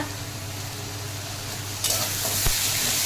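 Banana flower curry, cooked without onion or garlic with a little sugar, sizzles in a pan while being stirred, a steady frying hiss that turns louder and brighter partway through with a sharp scrape near the end.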